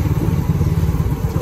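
A motorcycle engine runs while riding along a road, a close, loud, rhythmic low chugging throughout the short stretch with no talking.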